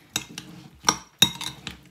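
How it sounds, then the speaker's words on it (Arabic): A spoon stirs a ginger and honey drink mixture, giving several sharp clinks against the container spread over two seconds, close and fairly quiet with no talking. "وغنخلطهم مزيان"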